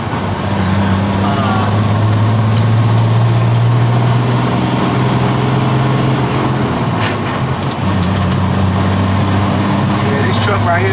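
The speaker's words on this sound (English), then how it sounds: "This truck right here, this is a Peterbilt." Peterbilt truck with a small engine and a 10-speed transmission, heard from the cab: a loud, steady diesel drone that changes pitch as gears shift, with a high whine rising and falling and brief air-brake hisses.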